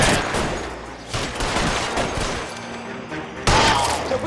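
Gunshots ring out in LA Noire, a dense, loud stretch of firing with a fresh burst near the end, while voices talk over the shooting.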